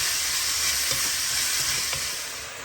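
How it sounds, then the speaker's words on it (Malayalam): Biryani being stirred in a pressure cooker pot over a steady, loud sizzle, with spoon scrapes and soft knocks breaking through around the middle; no one speaks. "I'm going to add some salt to it. Stir it well."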